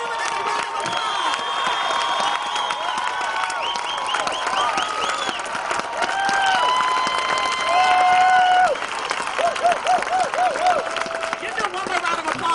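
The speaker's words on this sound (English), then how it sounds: "Give them another round of applause." Crowd applauding and cheering at a rally for Daniel Prude, with sustained loud clapping, whoops and shouted voices layered over one another, swelling midway and continuing throughout.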